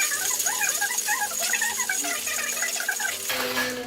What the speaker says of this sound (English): cap it off, give it a good old shake